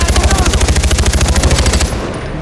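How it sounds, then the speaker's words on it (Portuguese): Rapid machine gun fire in the video game Far Cry 4, a loud sustained burst of evenly spaced shots for about two seconds that then cuts off, leaving a faint tail. "Continuem atirando."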